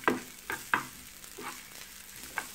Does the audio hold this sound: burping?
no